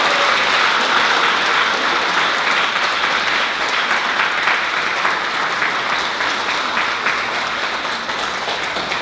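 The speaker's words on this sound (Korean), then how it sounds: "우리 방글라데시 신부님 위해서 뜨거운 환영의 박수 부탁드립니다." Loud, steady audience applause fills a Catholic church hall at Jeju's Dongmun Cathedral 50th-anniversary seminar, welcoming a visiting priest from Bangladesh, sustained and dense throughout with no break.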